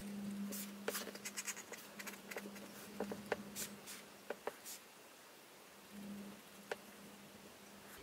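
Pencil drawing on paper during a gridded portrait sketch: faint, intermittent scratchy strokes and light taps over a low, steady background hum.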